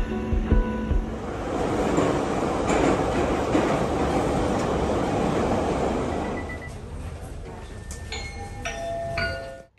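A Baku metro train rumbles steadily along the line toward Gara Garayev station, a loud continuous roar with rattling that fades into quieter cabin sounds and faint chimes near the end.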